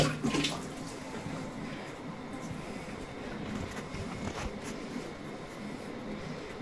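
Water runs steadily into a hotel bathtub at a Days Inn, a constant soft rushing hiss that fills the whole stretch with a couple of faint clicks near the start.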